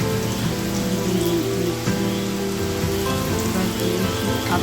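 Onions frying in oil in a pan for a country chicken curry with potatoes, giving a steady, dense sizzle and crackle that runs unbroken throughout with no voices.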